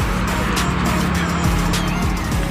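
Vehicles pass along a busy market street in Tarlac City, a steady close rumble of engines and tyres with occasional swells as cars go by, faint voices underneath.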